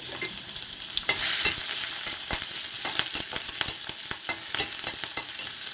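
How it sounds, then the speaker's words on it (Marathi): Hot oil crackles and sizzles steadily as cumin seeds, garlic and chili fry for tempering, with sharp popping bursts scattered throughout and a few stirring clinks, no voices. "जिरे घालते मी लसूण घालते मिरची फोडणीसाठी घालते"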